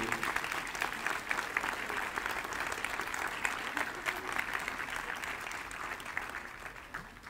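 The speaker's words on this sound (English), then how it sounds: "Will you give your teachers a round of applause, a much-deserved round of applause" An audience claps continuously and evenly, a dense patter of many hands that holds steady throughout before easing slightly at the end.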